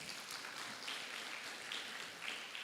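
Faint, steady clapping from an audience at a youth conference on sustainable development goals, a soft continuous patter heard from a distance.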